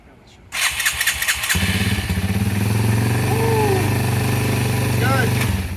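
A Yamaha XT225 motorcycle engine cranks and catches with the choke out, then settles into a loud, steady, close-up idle after about a second, with a voice speaking briefly over the running engine.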